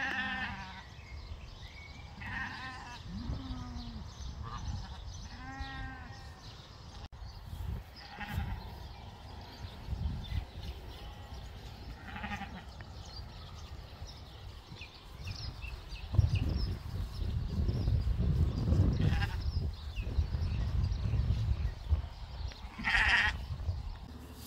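Freshly weaned Wiltshire lambs on a farm bleat repeatedly, several quavering calls near and far at first, then a louder, rougher stretch of shuffling and movement noise with fainter bleats.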